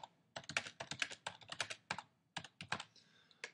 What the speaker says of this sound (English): I can then type some text